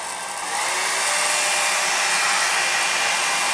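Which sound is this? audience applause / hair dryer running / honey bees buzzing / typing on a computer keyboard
hair dryer running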